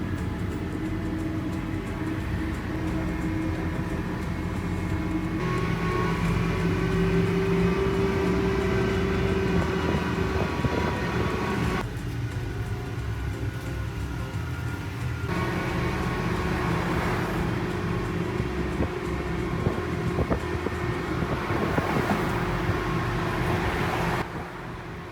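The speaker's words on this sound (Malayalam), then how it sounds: "അങ്ങനെ ഞങ്ങളുടെ ട്രെയിൻ യാത്ര സ്റ്റാർട്ട് ചെയ്തിട്ടുണ്ട്." Green tourist toy train rolling through Luxembourg City, a continuous close rumble of the moving vehicle with steady engine hum and faint tonal whine, shifting in character midway, without talk.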